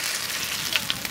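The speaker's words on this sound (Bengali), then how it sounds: "এবার আমরা ভেজে নিচ্ছি গোটা জিরে" Whole cumin seeds frying in hot mustard oil, a steady close sizzle with fine crackling and a few sharper pops, heard alone without talk.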